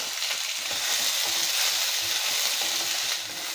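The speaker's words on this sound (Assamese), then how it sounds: "আৰু এইখিনি অকণমান ৰঙচুৱাকৈ মই ভাজি ল'ম তেলতে" Onion, garlic and ginger fry in hot oil, giving a dense, continuous close-up sizzle at a steady level with faint stirring underneath and no talking.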